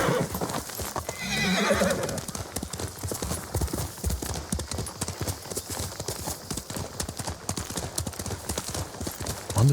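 Steady, rapid clip-clop of horse hooves running throughout in the video game Ghost of Tsushima, with a horse's whinny near the start and faint voices in the background.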